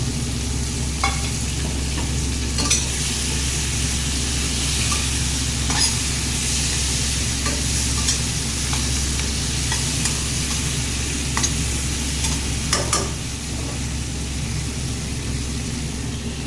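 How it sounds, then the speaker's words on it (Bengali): A fish head and ground cumin fry in a pan for a bottle gourd (lauki) dish, a steady loud sizzle with a low hum underneath and occasional sharp stirring scrapes throughout. No one speaks. "দিয়ে দিলাম একটু জিরের গুঁড়ো, মাছের মাথাটাও দিয়ে দিলাম।"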